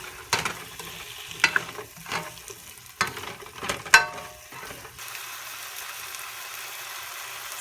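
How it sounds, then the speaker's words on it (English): Bottle gourd and shrimp sautéing in a pan, stirred in a few sharp scraping bursts and clacks over a quiet, low sizzle that carries on alone near the end. "Okay, so I'm going to go ahead and stir this."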